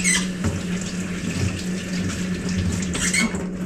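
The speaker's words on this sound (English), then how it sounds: "Hose off my meats real quick" Water from a hose sprays over ground deer meat meant for jerky, a close, continuous hiss and splatter lasting a few seconds with no talking.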